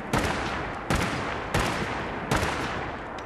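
Four sharp, loud gunshots from a Winchester Model 1907 cowboy carbine in Fallout 4, evenly spaced at under a second apart, each a crisp crack with a short decaying tail, no talking.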